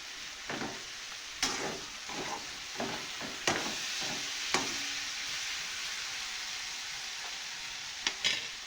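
Salted vegetables sizzle softly as they sauté in a pan over a low flame, with a steady frying hiss and a string of sharp spoon-against-pan taps from stirring, loudest early on.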